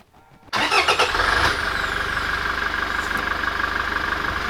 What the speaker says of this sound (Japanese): ちょっととりあえずエンジンかけてみますか。